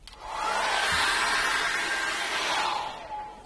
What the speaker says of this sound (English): I think I'm just going to put the hairdryer on that.